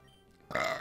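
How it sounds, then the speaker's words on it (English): One short, close burp lasts about a third of a second after near silence, loud against the quiet background. "Got a burp."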